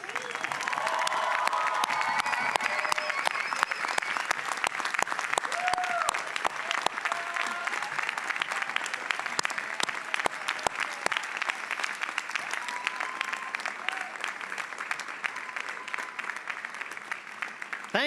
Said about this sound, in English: I would like you, the graduates, to celebrate them with a standing, stomping, cheering, hooting ovation